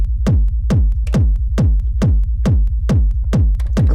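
A techno drum machine kick pattern thumps in a steady four-on-the-floor pulse, with some kicks set softer or shorter than others. The punchy low thuds come loud and close, with a faint ticking hat on top.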